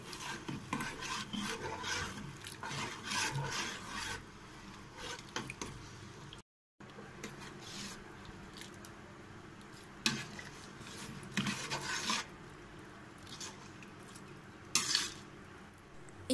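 Rice being stirred in a pressure cooker pot while making Godavari-style biryani, a soft continuous scraping and shuffling close by with occasional louder clinks of the spoon against the metal pot and a brief gap midway.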